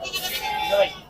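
Goats at the Allagadda livestock market in Andhra Pradesh give a short, close bleat that rises and wavers, heard over a busy crowd and people talking.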